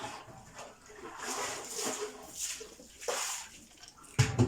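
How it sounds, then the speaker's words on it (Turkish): Water running from an outdoor fountain tap while things are washed under it, a steady close splashing rush that varies slightly with handling, ending with a couple of louder knocks. "Çeşmeye de şunları yıkayalım."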